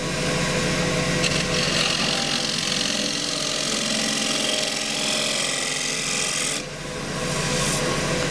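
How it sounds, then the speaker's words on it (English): A shear scraper cuts a small green wood bowl spinning on a lathe, giving a continuous loud rasping, hissing shave with a steady motor hum beneath and a short dip in intensity near the end. "this is the shear scraper"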